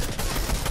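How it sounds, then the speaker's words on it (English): Gunfire aimed at the player in a multiplayer shooter game, heard as a dense, continuous rattle of rapid shots under a busy noisy mix, lasting under a second. "Oh, they're shooting me."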